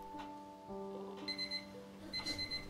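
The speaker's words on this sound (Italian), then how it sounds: "Al mattino la sveglia ha suonato." An electronic alarm clock rings in short repeated beeping bursts, moderately loud, with a steady background hum.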